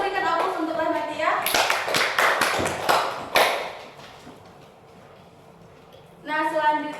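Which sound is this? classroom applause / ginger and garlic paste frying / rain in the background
classroom applause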